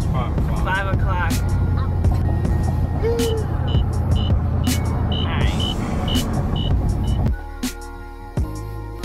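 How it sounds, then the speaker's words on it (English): Busy road traffic at 5 o'clock, cars passing in a dense, continuous rumble with occasional clanks and a horn-like tone, dropping suddenly near the end, while people talk nearby. "Let me show you the traffic, it's insane"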